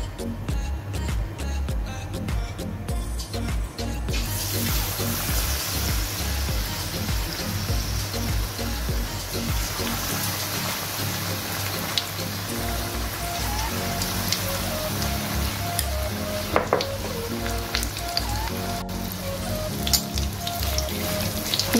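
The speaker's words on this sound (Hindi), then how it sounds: "चलिए अब फिंगर पकौड़ों को करते हैं फ्राई। ऑयल गरम है, फ्लेम को हम रखेंगे मीडियम।" Finger pakoras fry in hot oil over a medium flame, giving a loud, dense, continuous sizzle like heavy rain, with scattered pops and spatters throughout.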